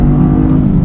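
A Toyota three-cylinder car engine gives a short, loud rev, a dense close-up roar that holds steady for under a second with no talking.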